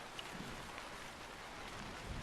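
First raindrops falling in an American jungle: a faint, steady hiss of rain throughout, with a few soft drop impacts.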